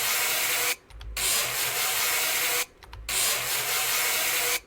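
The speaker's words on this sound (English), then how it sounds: "Put my hammer away, and we'll do some grinding." A grinder takes rust off a repaired metal part, a loud, harsh, continuous abrasive rasp in three long passes broken by two brief pauses.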